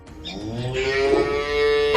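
Cows mooing nearby, one long, loud, drawn-out low call with a rising tone that lasts about two seconds, with no voices over it.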